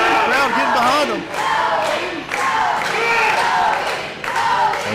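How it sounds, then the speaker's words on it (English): A wrestling match crowd roars and cheers loudly and continuously, with swelling shouts and chants over a near, sustained wall of noise. "Crowd getting behind him."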